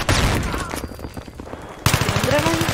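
Rapid gunfire from Battlefield 3 multiplayer, loud bursts of automatic fire and shots close by, with a short lull before a renewed barrage of repeated shots.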